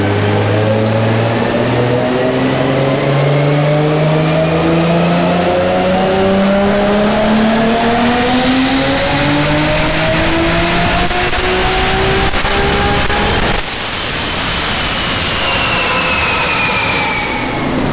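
A Nissan R32 GTR's engine revs hard through a drag pass, loud and close, its pitch climbing steadily through gear changes with a sudden drop near the end as the run finishes.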